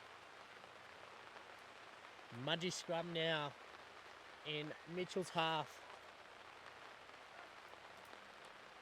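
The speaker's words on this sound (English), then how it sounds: "Pouring down rain here, folks." Steady hiss of heavy rain pours down throughout a rugby match between Mudgee and Mitchell, with a commentator speaking over it.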